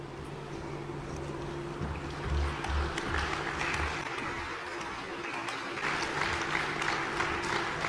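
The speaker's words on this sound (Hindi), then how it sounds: "जोरदार तालियां होनी चाहिए।" A crowd at an honouring ceremony for a Padma Shri artist from Jammu and Kashmir claps steadily but faintly, sounding distant over a constant low electrical hum.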